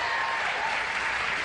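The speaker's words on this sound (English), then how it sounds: "They applaud like they had a piece of it." Studio audience at a late-night talk show applauding steadily, a dense, even wash of clapping filling the whole stretch without pauses or talk over it.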